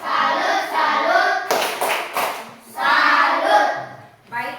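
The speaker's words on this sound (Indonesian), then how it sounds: "mari kita berikan tepuk salut untuk Angel." A school class claps together in short rhythmic bursts, with voices chanting in unison between the claps.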